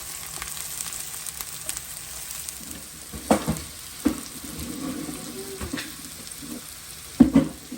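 Bitter gourd fries in a pan with a quiet, steady sizzle, broken by a few louder stirring clatters and scrapes, with no talking.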